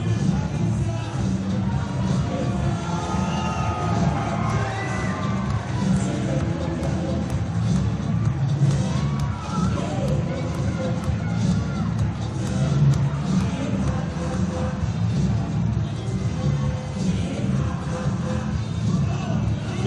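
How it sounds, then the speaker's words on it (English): Capacity crowd packed around a gymnasium at a wrestling show, a constant dense murmur of voices and shuffling with a commentator talking over it. "Huge capacity crowd all the way around this gymnasium."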